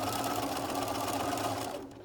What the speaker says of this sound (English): I'm going to back stitch 1 or 2 stitches and I'm done